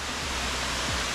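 Kuang Si waterfall near Luang Prabang, Laos, a dense, constant roar of rushing water close by, filling the short moment with broadband hiss and no voices.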